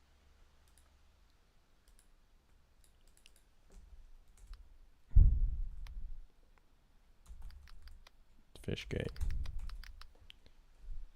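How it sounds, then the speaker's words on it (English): Scattered computer keyboard keystrokes are heard during a solo game-jam session, with irregular light clicks and a few short bursts of typing. A person speaks briefly between the keystrokes, and a louder thump comes near the middle. "Oh my god, I'm so bad at typing."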